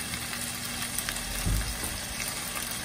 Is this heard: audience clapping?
no